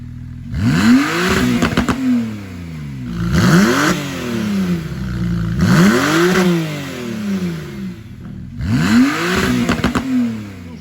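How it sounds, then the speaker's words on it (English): A 2017 Porsche 911 Carrera engine and exhaust revs up and falls back four times in steady repeated cycles, each rev sweeping up in pitch and dropping away, loud and close with no talk. "Exhaust note sounds good."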